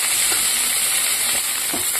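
Eggplant pieces sizzle in hot oil with a constant bright hiss, close and loud, with a couple of soft stirring knocks underneath and no talk.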